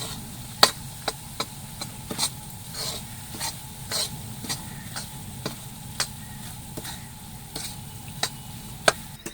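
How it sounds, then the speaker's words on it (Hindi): Wheat flour roasting in hot ghee for halwa, a quiet bed of sizzle broken by sharp, regular taps and scrapes of a spoon against the pan roughly every half second, with no talk. "आटे को हम भून लेंगे।"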